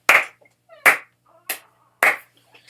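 Four loud, close hand claps recorded one at a time for a beatbox clap track, each sharp and evenly spaced about half a second apart, the strongest nearly clipping, with silence between.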